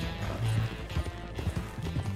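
Rhythmic clip-clop of a video game horse's hooves galloping at a quick pace, close and steady, with faint ambient noise behind.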